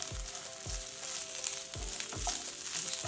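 Drumsticks frying in a pan with ginger garlic paste, a loud crackling sizzle with repeated low knocks of stirring, close up and with no voices.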